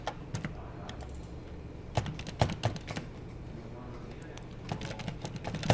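Someone types on a computer keyboard in a quiet room, with irregular clusters of sharp key clicks and a few louder strikes spread over several seconds. A voice speaks faintly now and then.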